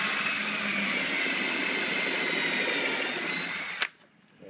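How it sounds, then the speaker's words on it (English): A power drill whirs steadily at close range for several seconds, drilling straight down into a particle board drawer, then cuts off abruptly, leaving near silence. "We're just going to drill straight down."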